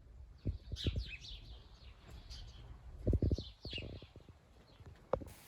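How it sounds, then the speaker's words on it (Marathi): Sparrows chirp repeatedly in short bright bursts in the snow during a winter storm in Germany, with soft thuds and clatter nearby in the foreground. "बिचारा चिमण्या इथं चिव चिव करत होते मी तुम्हाला आवाज ऐकवते"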